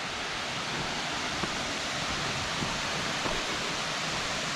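A waterfall running at low seasonal flow gives a steady, even hiss of falling water, moderately loud and unbroken, with no voices over it.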